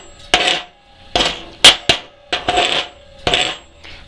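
A welder's chipping hammer whacks metal in several sharp, ringing strikes spaced unevenly, some single and some in quick pairs, close and loud, with no talking.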